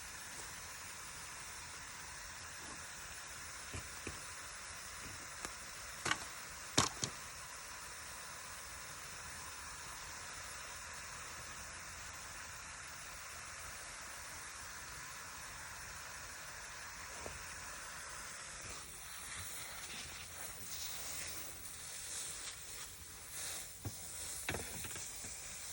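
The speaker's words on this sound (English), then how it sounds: "since the rain is picking up" Rain falls on a vegetable garden as a steady broadband hiss. A few sharp ticks and taps break through, and the patter grows busier toward the end, with no talk.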